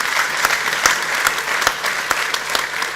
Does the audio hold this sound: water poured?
no